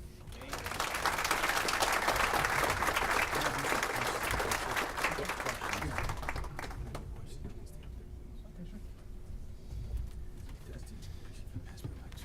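Audience applause after a presentation at a regional economic summit fades in, swells loudly for several seconds, then tapers off into room noise.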